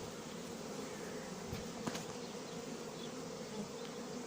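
Honeybees file into a hive during hiving at a farm, a soft continuous buzzing drone from many insects, fairly faint and steady, with a couple of brief clicks partway through.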